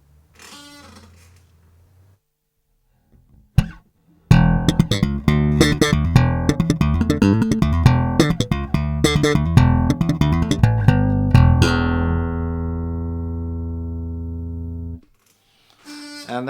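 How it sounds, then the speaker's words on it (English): A Fender Jazz bass is plucked through a Radial StageBug DI, giving dry direct tone: a short phrase, a pause, then a dense run of punchy plucked notes, ending on one note left to ring out and decay. "this is what the jazz bass sounds like directly through the radial stage bug DI"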